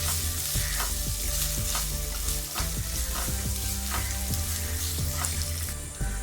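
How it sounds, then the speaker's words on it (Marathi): Cumin, black pepper, cloves, garlic and ginger sautéing in a pan for a rice dish, a dense, loud, steady sizzle with regular scraping stirs of a spoon throughout. "व्यवस्थित सॉटे करून घेऊया."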